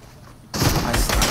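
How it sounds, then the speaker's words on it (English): Sudden burst of video game gunfire in a shooter erupts after a quiet lead-in, loud and sustained with rapid crackling shots to the end. "I was shooting at the fucking dude"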